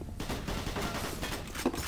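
Rapid gunfire from a pistol in the shooter game Doom, a dense continuous volley of loud close shots with no voices over it.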